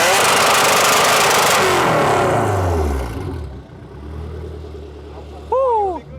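A K24-swapped Honda mini-truck engine revs high and loud, then winds down in a falling sweep to a rough idle before a sharp burst of revs near the end, with voices talking over it.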